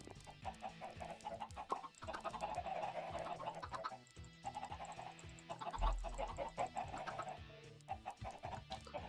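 Chickens in the video game Sky Odyssey cluck repeatedly in a busy, continuous stream of short calls over layered game sounds, moderately loud and without speech.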